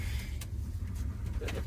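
A 1976 Ford F-150 engine idles steadily up close, a low continuous rumble with a few brief higher-pitched bursts over it.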